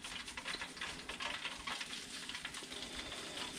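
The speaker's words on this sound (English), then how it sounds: "Now all I gotta do is just cook some french fries." French fries sizzle in hot frying oil, a steady dense crackle and hiss that runs unbroken and close, with no talking.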